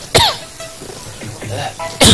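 A person coughs sharply and loudly up close, once at the start and again at the end, with softer throat noises and breathy vocal sounds in between.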